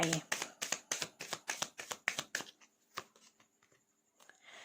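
Rapid riffle of tarot cards being shuffled, about ten crisp bursts in quick rhythm, followed by softer taps and slides as cards are laid out, close and clear with no talking.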